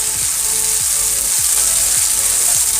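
Ginger and garlic paste fries in a pan with a loud, steady sizzling hiss, broken by a regular scrape roughly every half second, as if a spatula is stirring.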